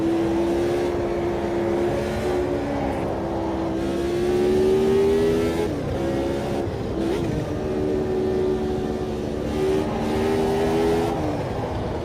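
A race car's engine in the sim racing game AMS2 revs and holds on the throttle through a corner, a loud, steady droning whine that rises and dips with a brief lift and recovery, with no voices over it.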